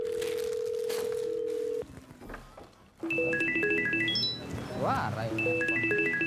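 A steady telephone tone is followed by a brief quiet gap, then a run of electronic ringback and dialing beeps while people talk, during a call to a courier.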